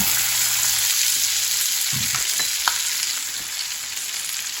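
One whole chopped onion and a shallot fry in a pan for Southern fried cabbage, giving a steady close hiss and crackle with a few soft stirring clunks partway through.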